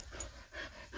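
A pet dog pants and whimpers close by, quick breathy bursts repeating through the moment over a low background murmur.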